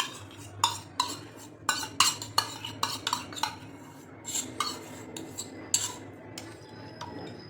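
Ingredients for jowar flour nankhatai stirred in a bowl, with a spoon striking and scraping the sides in a quick run of sharp, close clinks that slow and thin out toward the end.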